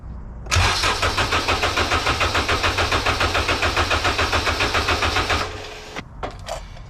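A K24 engine swapped into an EG hatch cranks at wide open throttle during a compression test, a loud close rhythmic starter churn of about five seconds that cuts off abruptly, followed by a few faint clicks.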